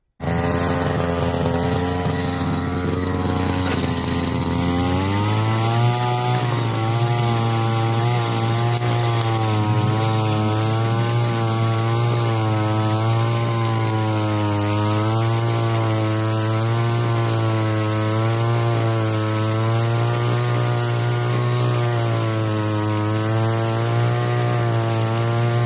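A small lawn mower engine drives a soil tiller attachment, a loud, continuous motor drone that climbs and settles into a steady, slightly wavering pitch for the whole stretch.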